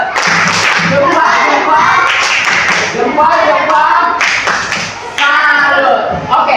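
A classroom of pupils performs a rhythmic salute clap, bursts of sharp group claps and taps mixed with children's voices and chatter throughout, loud and close.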